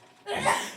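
A single short, breathy sneeze, close and moderately loud, bursts out after a brief quiet moment.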